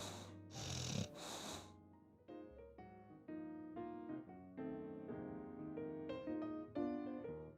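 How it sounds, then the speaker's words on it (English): A bear's snoring sound effect in a read-aloud children's story: two loud, breathy snores near the start, then soft melodic music carries on alone. "But the bear snores on."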